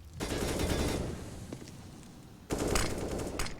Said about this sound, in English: An exchange of bullets, but it favors OG